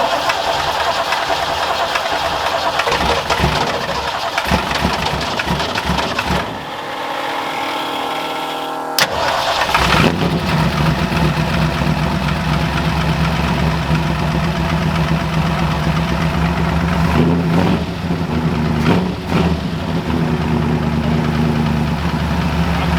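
A Ford F100 pickup truck engine runs loud and steady near by, with a brief drop around a restart before it settles back into a continuous rough idle.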